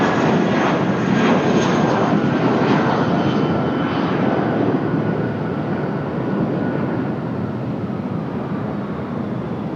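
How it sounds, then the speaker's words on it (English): Loud jet roar of an American Airlines Airbus A319, flight 1440, at Raleigh-Durham airport, strongest at first with a whining tone, then slowly easing as it passes, no voices. "This is A319."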